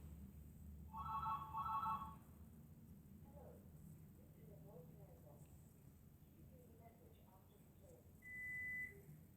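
A telephone rings twice in quick succession with a bright trilling bell, followed by quiet background murmur and a short beep-like tone later, all faint and at a distance.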